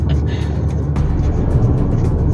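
A Toyota Hilux GR Sport engine pulls under acceleration as a loud, steady low rumble heard from inside the cabin, with road noise and faint background sounds.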